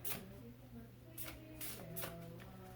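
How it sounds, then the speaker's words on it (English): Faint riffling bursts of tarot cards being shuffled, three or four quick quiet flutters close by. "You guys heard me shuffle."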